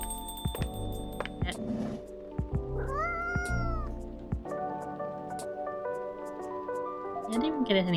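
A cat meows repeatedly in the video game Coffee Talk, with several drawn-out mews over a mellow lo-fi music bed, soft plucked notes and occasional drip-like clicks.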